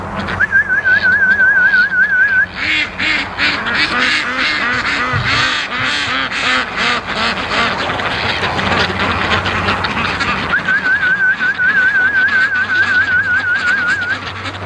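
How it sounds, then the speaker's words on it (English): A person whistles a wavering, trilling call, then pauses while a flock of ducks quacks busily nearby, before the whistling resumes over the quacking. "I'll do a little whistling here"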